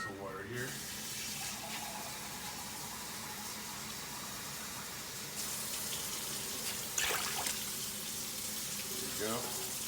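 Water from a tap pours steadily into a cooking pot on a home stove, a continuous splashing gush that runs throughout, with voices speaking faintly underneath.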